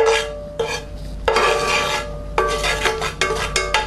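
Butter caramel for a tarte tatin bubbling in a frying pan while being stirred, with loud bursts of scraping and rasping against the pan between steady sizzling, no speech.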